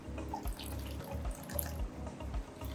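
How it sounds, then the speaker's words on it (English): Fish food being rinsed with a reverse-osmosis and salt water mix for a saltwater aquarium, a steady soft splashing trickle of running water, close and fairly quiet. "I'm gonna rinse this off with this RO and salt mix."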